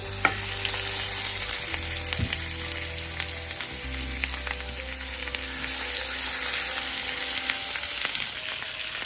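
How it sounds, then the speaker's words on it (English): Marinated beef chuck ribs sizzle and crackle on a stovetop grill, a steady bright frying hiss with occasional pops and a low hum underneath. "The marinated beef chunk ribs going onto the stove top grill."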